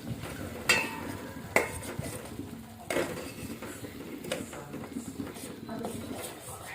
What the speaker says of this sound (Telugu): ఇదంతా పచ్చివాసన పోయే దాకా మనం కలుపుతూనే ఉండాలి